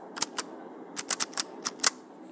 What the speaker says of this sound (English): So I'll type in school.